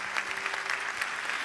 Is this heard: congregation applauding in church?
yes